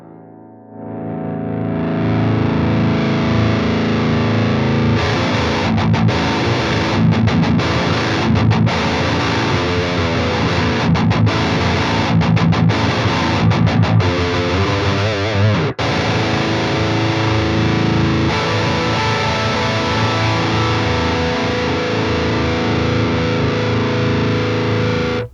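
An electric guitar runs through a Bogren Ampknob RevC distortion pedal, giving a loud, thick distorted tone. Chugging riffs and sustained chords are broken by brief rhythmic stops, and a long ringing chord carries through to the end.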